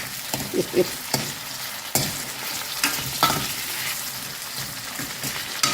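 Ingredients for mango sambar sauté in a hot pan with an oily sizzle, broken by several sharp clacks of a spoon stirring against the metal.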